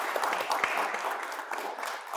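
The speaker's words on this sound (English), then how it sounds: "Can we just give them a round of applause for this wealth of information?" An audience applauds panelists after a discussion on drug addiction and treatment, a brief burst of steady, moderately loud clapping from a room full of people.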